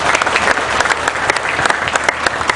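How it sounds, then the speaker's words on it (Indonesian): Loud, dense audience applause fills a hall during a question-and-answer legal discussion forum in Indonesia, with steady overlapping claps and no break throughout. "Tepuk tangan untuk Mas Chandra ya."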